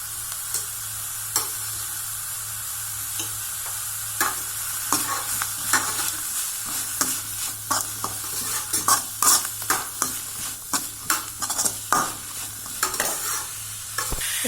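Vegetables for fried rice sauté in a hot pan with mint and salt, a constant close sizzle broken by many sharp, irregular clinks and scrapes of stirring that grow busier toward the end.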